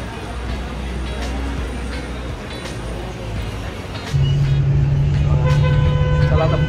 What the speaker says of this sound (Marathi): भुवनेश्वर रेल्वे स्टेशनचं बस स्टॉप.